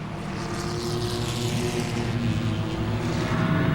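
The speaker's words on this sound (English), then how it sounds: "Back to racing at Langley Speedway" Enduro race cars at Langley Speedway roar around the oval as a steady, droning mass of engine noise with a continuous low hum.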